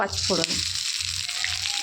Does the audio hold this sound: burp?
no